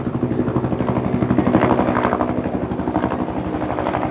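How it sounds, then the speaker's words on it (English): A helicopter flies overhead, its rotor beating in a fast, steady thump with a loud, constant engine drone close by throughout. "that's a helicopter"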